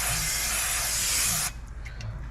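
A loud continuous aerosol spray of brake cleaner hisses close by onto Honda Civic rear brake parts for about a second and a half, then cuts off, leaving faint clinks.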